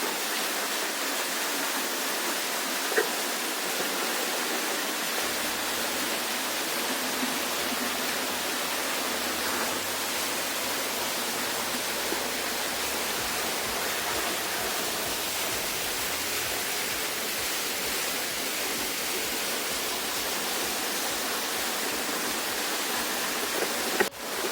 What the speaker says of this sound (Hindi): So I'm in front of the waterfall.